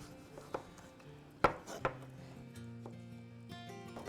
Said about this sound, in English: we're going to come in and just do some pretty slices